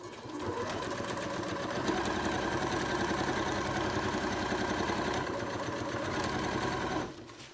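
A sewing machine stitches the corners of a fabric drawstring bag, backstitching at each end: a steady, close, fast mechanical whir with dense rapid needle clatter running for about seven seconds before stopping abruptly, no talking.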